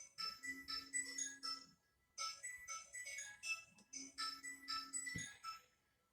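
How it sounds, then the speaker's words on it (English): A phone rings in the background of a soap-making session, a repeating melodic ringtone in three bursts with short pauses, fairly faint and heard alone. "My phone's ringing in the background"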